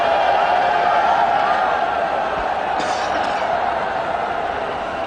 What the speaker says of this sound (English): Great crowd in. And they're loving every bit of it.